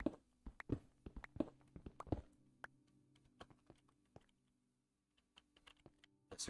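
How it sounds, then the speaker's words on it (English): Computer keyboard typing in bursts of sharp clicks, dense at first, then sparser with pauses, fairly close and alone. "These are just keyboards."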